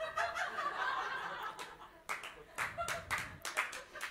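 Scattered clapping and light laughter from a stand-up comedy audience, a few uneven bursts of applause from several people, fairly near and moderately loud, with brief gaps between them.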